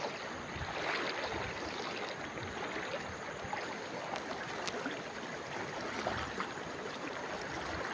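A village river flows over stones in a continuous, fairly loud rushing wash of water, steady for the whole stretch with small splashy variations and no voices.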